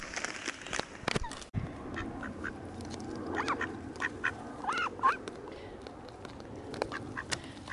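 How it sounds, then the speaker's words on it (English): Several ducks quack in short bursts against an outdoor background, with a sharp knock partway through and faint voices in the distance. "we have got ducks who seem to think that they're part of our picnic"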